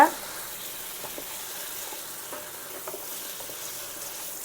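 Pepper chicken gravy sizzles steadily in a pan over a low flame, a close, continuous frying hiss broken by soft scrapes as the spoon stirs through it.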